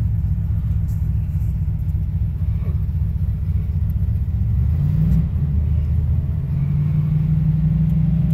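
A blue 1954 Ford Crestline engine idling nearby, a steady low rumbling drone that swells slightly in pitch for a few moments before settling back, continuous throughout with no voices.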